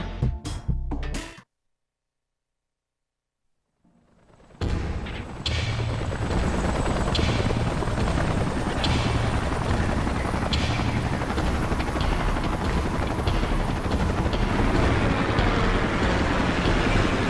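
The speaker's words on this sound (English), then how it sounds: "Let's call in the salvage choppers and get it out of here." Salvage helicopters in the video game Xenoblade Chronicles X, a loud steady rotor whir and engine drone that rises after a short silence and holds continuously, with no talk over it.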